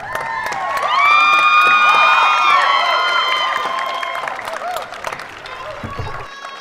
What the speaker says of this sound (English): please show your thanks by applauding the audience